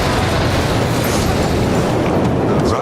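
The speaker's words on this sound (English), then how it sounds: "An earth-shattering explosion in a rocket fuel factory rocks this small desert town." A huge explosion at a rocket fuel factory in a small desert town produces a loud, continuous roaring rumble. The deep blast noise holds steady throughout, with no voices heard.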